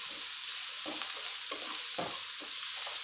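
Mushroom and vegetable fried rice sizzles loudly in a pan while a spatula stirs it in regular scraping strokes, about one every half second, with no talk.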